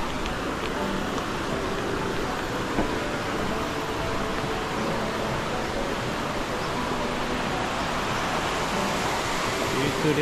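Steady broadband rush of the Durian Perangin waterfall in Langkawi, a continuous roar of falling water near a bridge with no breaks, even in level from start to end.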